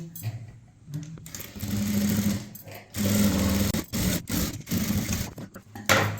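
A sewing machine stitches a seam on a blouse, its motor whirring in close, uneven bursts that stop briefly and restart.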